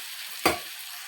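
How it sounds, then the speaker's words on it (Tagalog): Onions fry in a pan for butter garlic shrimp, giving a soft, steady sizzle with a single brief spatula knock in the middle. The sound is close but fairly quiet, with no talking. "maglagay tayo ng sibuyas"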